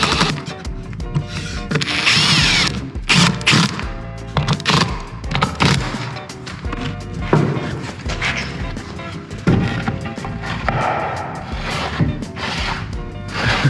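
A power drill held in a wooden jig runs loud and close for the full stretch, its whine broken by repeated knocks, clatters and thwacks of wood, with no talk.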